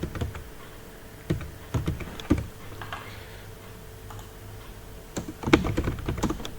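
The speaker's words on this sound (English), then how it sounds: "you can type the date" Scattered keystrokes on a computer keyboard while an invoice date is entered: a few quick clusters of sharp clicks with quiet pauses between them, close and fairly faint.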